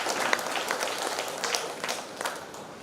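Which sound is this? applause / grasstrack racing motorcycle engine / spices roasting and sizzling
applause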